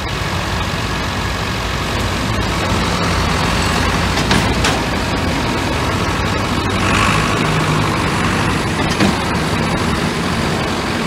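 A Steyr tractor engine strains in low heavy gear with a steady, loud, dense rumble that holds unbroken throughout, with a few faint clanks mixed in and no talk.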